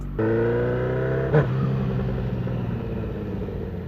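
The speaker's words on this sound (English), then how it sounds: "Honda CBR 1000 Double R. Let's go for a ride." Honda CBR 1000 RR sport motorcycle starting up and pulling away, a steady engine drone with a brief louder burst, then the engine settling as it rides off.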